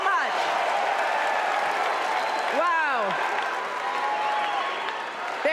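A rally crowd cheers and applauds continuously and loudly, a dense sustained roar of clapping and shouting, with a speaker's amplified voice briefly heard over it.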